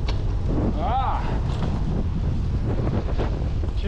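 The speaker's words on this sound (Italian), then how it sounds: "Ci risiamo, altro vento." Gusty wind blasts into the microphone of a cyclist riding a bike path, a loud steady low rumble throughout, with a brief voice heard under it.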